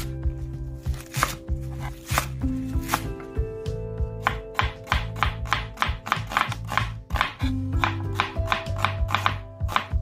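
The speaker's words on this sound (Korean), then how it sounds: "5cm 길이로 잘라줍니다." Knife cutting vegetables into 5 cm lengths for kimchi on a cutting board, a run of crisp, close chops that come in irregular bursts, quickening into a fast rhythmic series toward the end.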